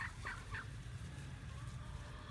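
Domestic turkeys in a backyard gobbling, three quick warbling calls close together at the start, then a steady low hum of outdoor background noise.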